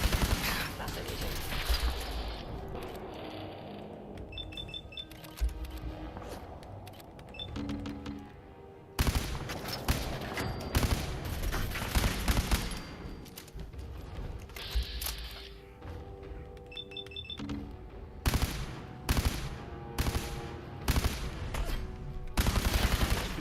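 Automated turret gunfire in Fallout 4: long stretches of dense, rattling automatic fire with mechanical clunks and metallic clicks, loud and continuous, under occasional talk.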